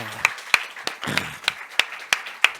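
A church congregation at a Sunday worship service claps in a sparse, uneven rhythm, about eight sharp, fairly loud claps spread over a few seconds with no one speaking over them.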